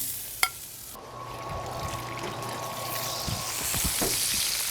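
A 24oz tomahawk steak laid on a hot grill, a sharp knock followed by a broad sizzling hiss that sets in and holds steady, close and moderately loud, with no talking.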